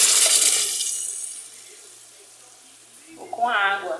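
Water poured into a pot of soup on the stove makes a loud rushing splash at first that thins out and fades away, and then a voice speaks briefly near the end.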